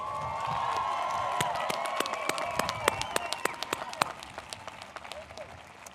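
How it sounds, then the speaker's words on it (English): At a 2019 college commencement, graduates clap for their families and friends: scattered, sharp claps pick up and thicken over a tonal background with voices, then thin out toward the end. "Graduates, can you give your families and friends a big round of applause?"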